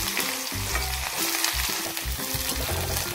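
Onions going into hot oil with mustard seeds, giving a loud, continuous close-up sizzle with stirring underneath, set against background music.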